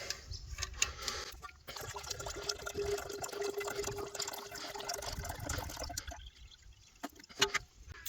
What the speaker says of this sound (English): I can check the radiator water this morning, and I can actually top up from some drinking water.